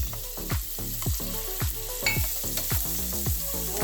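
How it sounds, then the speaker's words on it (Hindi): Chopped onion frying in a hot pan with garlic, a steady close sizzle marked by repeated stirring scrapes in an irregular rhythm, with no talking. "फिर हम ये प्याज डाल देते हैं।"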